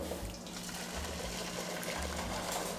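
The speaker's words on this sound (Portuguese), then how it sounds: "Vou colocar um pouco de água aqui." Water pours steadily into a baking pan to make a water bath for an Italian caçarola pudding, a continuous close gushing splash with no talking over it.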